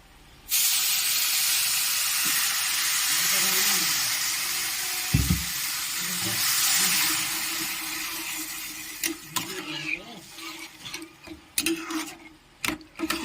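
A loud hissing sizzle bursts up as water is poured into a hot pan of fried semolina upma, holding steady for several seconds, then fading into scattered clinks and bubbling, without any speech.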